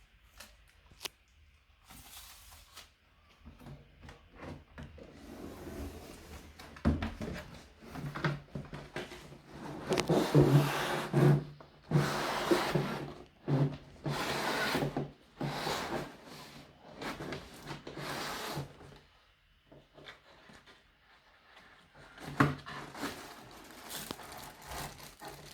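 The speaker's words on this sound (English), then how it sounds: "Now we're going to open the box." A Sage Smart Grinder Pro coffee grinder box is opened and unpacked, with close, intermittent bursts of cardboard scraping, flaps and rustling packaging separated by quiet pauses.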